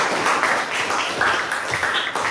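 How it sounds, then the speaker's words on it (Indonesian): Students in a classroom giving a round of applause, a dense, steady patter of many hands clapping at moderate loudness for a couple of seconds. "Kita beri tepuk tangan."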